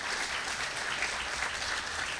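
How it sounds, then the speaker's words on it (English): Audience applause for the LA County fire chief and the fire department at a State of the City event, a steady dense wash of clapping across the whole short stretch with no voices. "Let's give a big round of applause to them."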